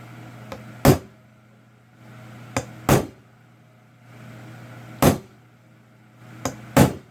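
Four tap pairs ring out on a pressed-in part of a Toro self-propelled mower's rear drive, each a light tick followed by a sharper metallic knock. The taps are close and well spaced over a low steady hum.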